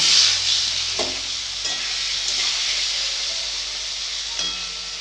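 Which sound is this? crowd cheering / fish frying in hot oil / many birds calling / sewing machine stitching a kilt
fish frying in hot oil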